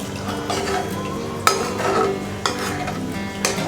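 A spoon stirs water in a metal pot for biryani, scraping and clinking against the sides in a quick, close rhythm with a few sharper knocks, no voices.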